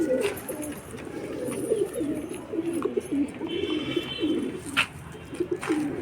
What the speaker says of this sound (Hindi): बेहतरीन कबूतर।